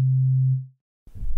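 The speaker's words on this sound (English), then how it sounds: "For this example, let's select basic sine wave." A basic sine wave from the Logic Pro Alchemy synthesizer sounds as a pure, low, steady tone that fades out after about half a second, then a brief burst of low rumbling noise follows.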